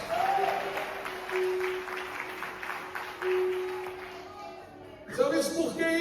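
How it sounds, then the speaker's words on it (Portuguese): Congregation applauding during a church service, a steady wash of clapping for about five seconds that fades as voices and music rise at the end. "Você pode aplaudir o Senhor bem forte e dizer glória a Deus?"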